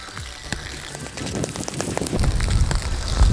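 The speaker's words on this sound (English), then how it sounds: "I've never seen rain that heavy." Dense, steady hiss of heavy rain pouring down, growing louder and fuller toward the end, with scattered sharper splashes and patters throughout.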